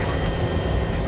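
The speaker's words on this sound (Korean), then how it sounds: "1번 코브라 헬기가 기지와 교신을 끝내면 이륙을 시작한다" A Cobra attack helicopter of an army unit lifts off on a training flight, a loud, close, steady engine and rotor roar filling the short stretch with no voices.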